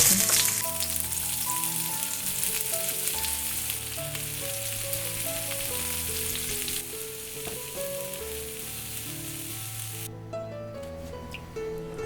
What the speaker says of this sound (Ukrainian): Розігріваємо пательню з невеликою кількістю олії та підсмажуємо цибульку весь час помішуючи